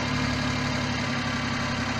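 Suzuki Every DA62V small van engine idles while warming up, a close, steady mechanical hum with a faint ticking knock, loud and alone for two seconds.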